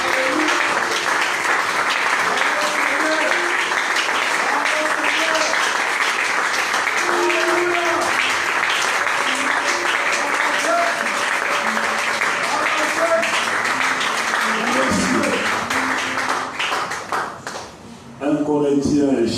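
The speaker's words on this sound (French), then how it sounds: "Est-ce qu'on peut bien acclamer pour le Seigneur?" A church congregation applauds and cheers for the Lord during a French-language service, with sustained, dense clapping filling the room and fading briefly near the end.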